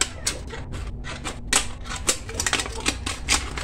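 Scissors snipping through a thin aluminum foil can, heard as a quick series of close, crisp crinkly cuts and metallic crackles in an uneven rhythm with no talk.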